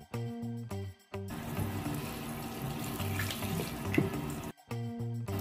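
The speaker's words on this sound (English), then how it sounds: "you want the water on a low stream so you do not splash" A kitchen tap runs on a low stream while chicken is prepared, a steady close splashing flow bracketed by brief bursts of music at start and end.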